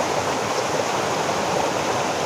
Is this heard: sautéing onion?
no